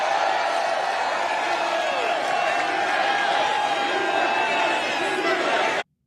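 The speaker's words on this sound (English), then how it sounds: "Crowd goes wild" A large crowd at a political rally in the Bronx roars and cheers in a steady, loud wash of voices that holds for several seconds, then cuts off abruptly.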